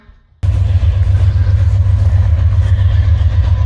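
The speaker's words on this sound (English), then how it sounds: "What goes by? A train." After a brief quiet moment by a graveyard, a loud, steady rumble of a passing train suddenly fills the scene and continues without letting up.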